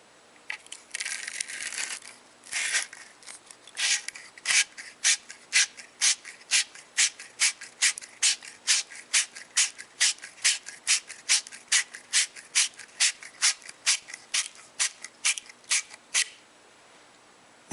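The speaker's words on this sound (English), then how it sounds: "push the copper pipe cleaning brush down over the end of the pipe with the other hand until it stops, and then turn the cleaning brush clockwise or counterclockwise" Copper pipe cleaning brush twisted back and forth over the end of a copper pipe, a fast, even series of close scraping rasps that ends abruptly.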